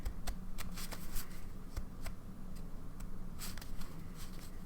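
A stack of ink swatch cards being handled and flicked through, producing quick papery riffles and snaps in irregular bursts over a soft background, close and moderately quiet.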